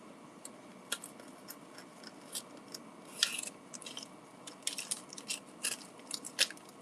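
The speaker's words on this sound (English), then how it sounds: "My packet opening scissors." Household scissors snip open a food packet at close range, a scatter of sharp clicks and crunchy cuts arriving in irregular bursts, busier toward the end, with no talking.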